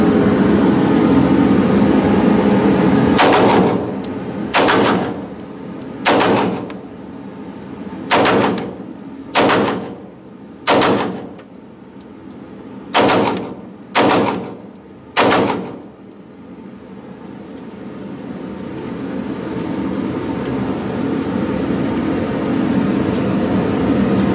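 A fourth-generation Glock 19 pistol fires nine loud FMJ shots at a 7-yard range, in uneven pairs and singles, each a sharp crack with a short decay over quiet background noise.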